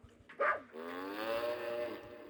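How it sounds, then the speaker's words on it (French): A cow in the video game 102 Dalmatians lets out a single low, drawn-out moo lasting over a second, moderately loud against faint background game sounds. "Vache."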